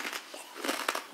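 Crunchy salted snack fried in canola oil being bitten and chewed, several crisp crackling crunches in quick succession close to the mic, with no voices.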